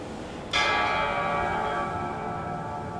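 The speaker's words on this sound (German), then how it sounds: "Alter, richtig gruseliges Läuten." A single eerie bell struck in the horror game Layers of Fear 2, one loud clang that rings on with a long, slowly fading metallic hum.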